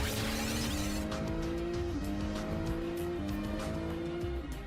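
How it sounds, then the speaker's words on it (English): A new Porsche 911 under test on rough roads, its engine note rising and falling through steady gear changes, loud and close throughout with no voices. "the new 911 must work even on rough roads"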